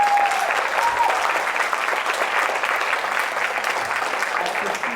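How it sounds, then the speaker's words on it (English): Steady audience applause at a youth pitch competition for a teenage presenter, dense even clapping throughout with a brief faint voice near the start. "I think we should give him a round of applause for doing it."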